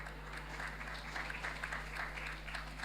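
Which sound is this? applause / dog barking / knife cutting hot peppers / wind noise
applause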